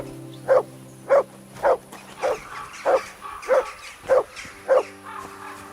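The dog Mutt barking in the video game Kingdom Come: Deliverance 2, eight loud evenly spaced barks at close range over a low steady game ambience, with no talk.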